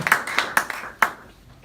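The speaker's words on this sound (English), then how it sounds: "A round of applause, please, for Avatar." An audience claps for a speaker at a TUC and Stand Up to Racism event, a handful of sharp, close claps in a loose cluster that thins out and stops within about a second.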